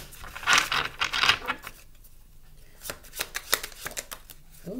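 Riffling bursts of shuffling tarot cards, a couple of long crisp riffles followed by shorter, sharper flicks and taps, close by with no talking.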